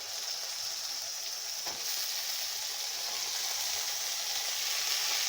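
Potatoes fry in a pan with chopped tomato for a dried-fish curry, a constant close sizzle with a brief stirring scrape and no talk.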